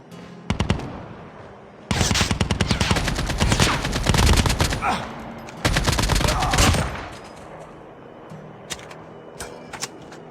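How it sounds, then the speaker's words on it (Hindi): Rapid bursts of automatic gunfire from the mobile shooter Call of Duty Mobile ring out loudly in several long volleys, with scattered single shots and sharp clicks between them. "उसी बंदे के टीममेट ने जिसको मैंने अभी किल किया मेरे पे कर दिया फायर"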